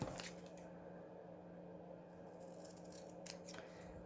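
Scissors snip through leftover paper scraps while small tags are trimmed, giving a few quiet, close cuts over a faint steady background hum.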